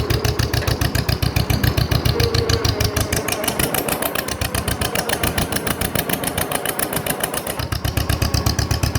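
A 1948 John Deere M tractor engine runs under load with a steady, rapid, loud chugging beat close up, alone without talk.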